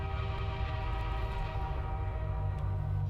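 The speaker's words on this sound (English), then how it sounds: "That's the same train noise from Half-Life 2." A steady train rumble from Portal 2, the same train sound used in Half-Life 2: a continuous, loud low drone with layered horn-like tones holding throughout, with no talk.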